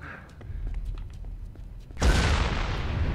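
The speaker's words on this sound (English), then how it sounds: "That explosion looked better." In the video game Dead Rising 4, scattered crackles and thuds build to a sudden loud explosion that bursts in about two seconds in and holds as a dense, roaring blast tail.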